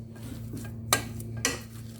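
A spoon clinks against a bowl or pan while chopped coriander and mint are mixed into ingredients for prawn and potato burgers, giving two distinct metallic taps over a steady low kitchen hum.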